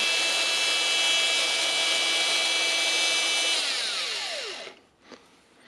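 A Makita DGA452 cordless angle grinder with freshly replaced carbon brushes runs free at a high steady whine, then spins down with a falling pitch and coasts to a stop.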